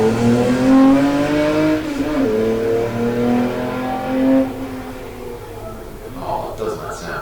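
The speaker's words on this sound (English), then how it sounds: "Tirana Sports Sedan just getting off the line. Watch this car go." A Tirana Sports Sedan hill-climb race car launches off the line at a historic sprint meeting in Leyburn, its engine loud and close, climbing in pitch as it revs hard and pulls away.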